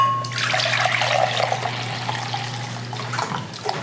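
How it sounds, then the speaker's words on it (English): Two cups of dry rice pour into a pot while jambalaya is made in a home kitchen, giving a steady, close, hissing rush that lasts a few seconds over a low hum. "Let's pour in our rice first. 2 cups of rice."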